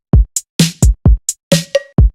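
Drum beat programmed in FL Studio with an 80s snare and a new hi-hat, punchy kick and snare hits alternating with short crisp hi-hat ticks in a steady groove, loud and dry with no talk.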